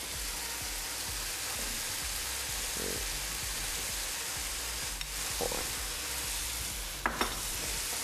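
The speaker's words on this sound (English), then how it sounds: "Now, stir fry it up very quickly." Rice stir-fried quickly in hot oil in a pan, giving a steady soft sizzle with scraping stir strokes and a few sharp clinks near the end.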